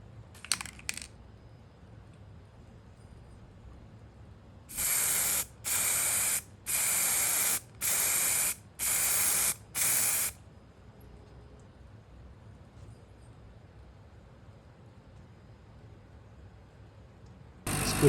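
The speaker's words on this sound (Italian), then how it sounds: "ora vernicerò di un colore qualsiasi, in questo caso col nero opaco" An aerosol can sprays matte black paint onto a copper circuit board in short bursts, first two quick puffs, then a run of five or six even one-second hisses, with a quiet room between them and one more burst at the end.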